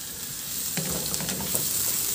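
Garlic and onion frying in a pan, a steady bright sizzle that swells slightly as the ingredients hit the hot oil, close up with no talking.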